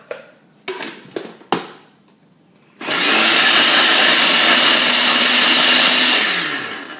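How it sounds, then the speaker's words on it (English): A few clunks and rattles, then a blender roars loudly and steadily for several seconds, pulverizing roasted coffee before winding down. "let's get that in the blender"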